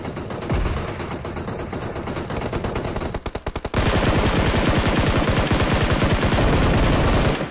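Automatic gunfire in PUBG Mobile, loud and close, with rapid rattling bursts that pause briefly and then give way to a second, heavier sustained volley of fast shots; no one talks.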